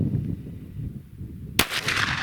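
A single sharp handgun shot at an outdoor shooting range, fired with Hornady 124 grain ammunition, cracks out loud near the end over a steady low rumble of wind and ambient noise.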